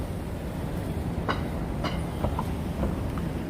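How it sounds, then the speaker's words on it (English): A New York City subway train at the 51st Street station in Manhattan, a steady rumbling roar with a few faint metallic clicks and clacks, continuous and moderately loud. "That's the subway."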